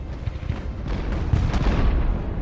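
Cannons of a militia battery with 3-pounder guns fire in the strategy video game Ultimate General: Revolution, a dense rumbling wash of overlapping artillery booms rolling continuously, loud and close.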